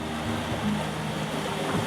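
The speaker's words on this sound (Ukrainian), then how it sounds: "Трошки вітер здійнявся, хвилі з'явилися" Wind gusts and sea waves wash along a shore on the Albanian Riviera, a steady low rush of surf mixed with buffeting wind noise and no talking.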